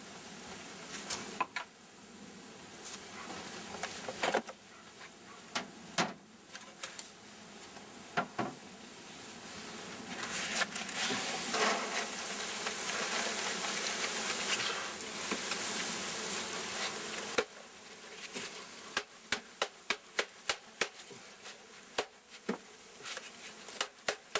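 Thousands of honeybees being dropped into a hive give a steady, close insect buzz that swells in the middle, with sharp taps and knocks scattered throughout and no voices.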